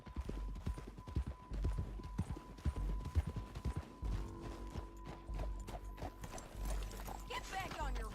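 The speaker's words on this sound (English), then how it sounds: "Get back on your horse, John." Horse hooves clip-clop steadily in Red Dead Redemption 2, a rhythmic run of close hoofbeats over a mechanical, geared backdrop, with faint game voices partly over it.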